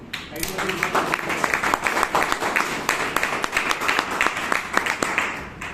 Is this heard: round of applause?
yes